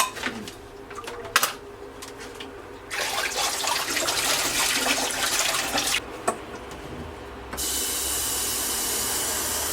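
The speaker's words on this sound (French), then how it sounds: "Je mets de l'eau fraîche à chauffer" Tap water running into a kettle or pot to be heated: a quiet hiss and clinks first, then a loud rushing stream of water for several seconds, a brief pause, and a steadier hiss at the end.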